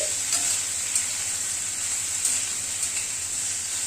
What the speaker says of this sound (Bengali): হাফ চামচ আদা বাটা দিয়ে দিলাম আদা বাটাটাকে একটুখানি নাড়াচাড়া করছি